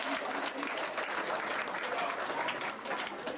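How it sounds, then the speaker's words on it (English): Wedding guests applaud the bride and groom at a reception in Nebraska: steady, dense clapping from a full room that holds at even strength throughout, with a few scattered cheers mixed in. "One more time, big round of applause for the bride and groom"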